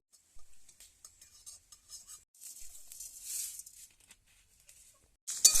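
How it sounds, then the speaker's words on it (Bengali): Cumin and mustard seeds dry-roast together in a wok with no oil, giving sparse faint crackles and light rattling ticks that build into a brief denser patch, then a sharp louder clatter at the end. "জিরে সর্ষে সব একসঙ্গে ভেজে নেব।"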